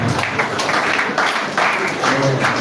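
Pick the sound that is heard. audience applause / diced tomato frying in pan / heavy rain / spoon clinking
audience applause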